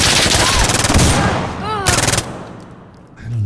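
Rapid automatic gunfire from the video game Insurgency Sandstorm rattles in loud, close bursts with a brief pause between them, followed by a quieter tail.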